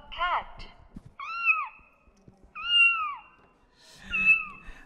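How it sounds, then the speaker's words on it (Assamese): A recorded cat meowing played back, several drawn-out, bending meows separated by short gaps, with faint background noises between them. "আৰু এটা কেটটো শুনি লওক।"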